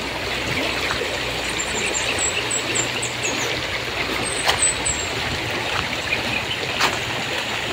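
A wide river flows steadily and fairly close, a continuous broadband rush and trickle with no talk, joined by a few faint high squeaks and brief clicks.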